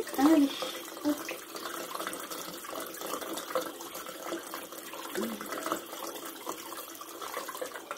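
Tap water running steadily into a sink to rinse off a face mask, a continuous close splashing hiss with a brief louder splash at the start.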